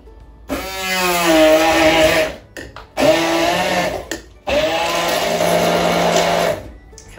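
A hand blender whizzes a banana in a beaker in three loud bursts, a whining motor that falls slightly in pitch as the fruit purées, with short pauses between each run.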